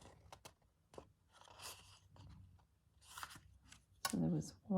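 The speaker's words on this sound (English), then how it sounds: "get my cutting board out and cut" Paper pages being cut for a junk journal, with short crisp snips and crunchy slicing strokes on a cutting board, close and moderately loud, mixed with handling rustles and some quiet talk.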